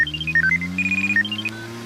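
A mobile phone plays a brief, bright electronic melody while an outgoing call connects, with a low steady hum underneath before the tune stops.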